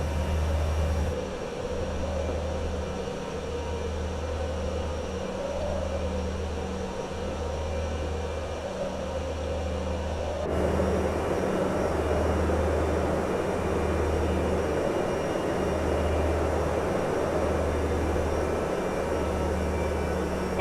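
A Powershute SkyRascal powered parachute drones steadily in Microsoft Flight Simulator 2024 over the Nassau area, its small engine giving a continuous low pulsing hum with a faint rhythmic beat that grows slightly louder partway through.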